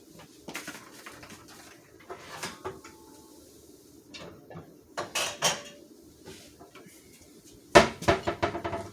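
A 10-inch skillet and its lid are handled at close range, with scattered clanks, scrapes and clatters of metal cookware. A sharper cluster of clinks comes near the end.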